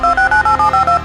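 A telephone keypad beeps out a quick run of seven evenly spaced DTMF dialing tones, loud and close, while dialing *666.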